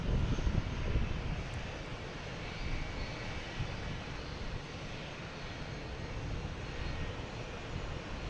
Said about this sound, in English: got the Southwest that just landed, pulling in here